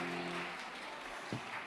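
Audience applause for the house band at a live political talk show, a short soft wash of clapping that stays fairly even, with a low hum at the start.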